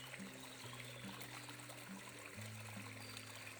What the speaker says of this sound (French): Vous suivez le cours du ruisseau